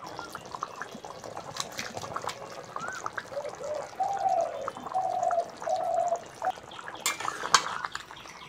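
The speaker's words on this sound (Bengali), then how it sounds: "এবার ভেজে রাখা আলু দিয়ে দেবো।" Fried potatoes go into a simmering jackfruit curry, with clinks of a utensil on the pot, a liquid bubbling and sloshing burst in the middle, and a sharp metallic knock near the end.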